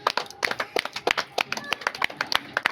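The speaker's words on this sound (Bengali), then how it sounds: "চলো হাততালি হাততালি হাততালি হাততালি হাততালি" Hands clapping in a fast, uneven string of sharp claps during a spin wheel challenge game, close by, with a few voices chattering underneath.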